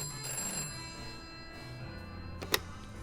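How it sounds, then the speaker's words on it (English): A telephone rings in a detective's office in an audio drama, a mechanical bell trill audible amid a busy, humming background, with a sharp click near the end. "As soon as he enters, the phone begins to ring."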